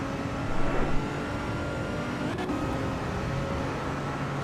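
Lotus Exige engine revving in the racing game Assetto Corsa EVO, a steady car engine drone with a slight swell early on, heard alone without talk.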